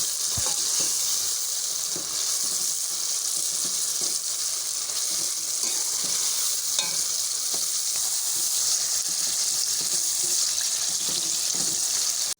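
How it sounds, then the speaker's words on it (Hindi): Chicken is tossed into softened onions and tomatoes in a hot pan for a Sindhi biryani. A loud, steady sizzle of frying carries throughout, with stirring scrapes mixed in. "अब इसमें चिकन ऐड करेंगे और इनको अच्छी तरह से मिक्स करेंगे।"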